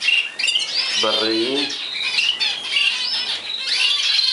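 Young zebra finch chicks chirp and squawk in a dense, high-pitched chorus close by, with a bit of soft talk underneath.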